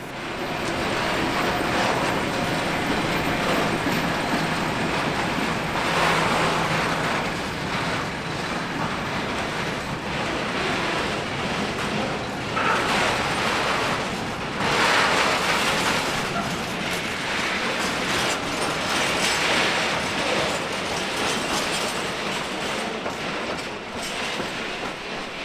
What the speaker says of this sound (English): (742-381) arrives with the local pickup freight.